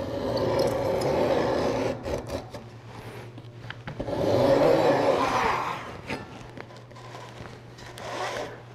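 Close, rasping cuts through a stack of wood veneer for pulpit sides, sounding as long scraping strokes that swell and fade over a steady low machine hum.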